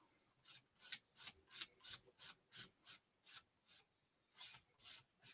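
A nail file rasps hard gel off fingernails in about fourteen quick, evenly spaced strokes, each a close, dry scratch with brief gaps between, and no voices.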